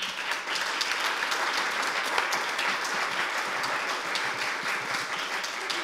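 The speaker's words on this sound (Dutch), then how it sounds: "Graag uw applaus voor de partijleider, lijsttrekker van de SP, Lilian Marijnissen." An audience at a Dutch SP party gathering claps steadily for the party leader, a dense, even wash of applause from many hands that continues throughout, with no voices.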